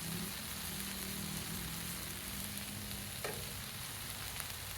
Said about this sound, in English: now that our onion's starting to cook down pretty good, I'm going to go ahead and add our last ingredient, which is garlic, minced garlic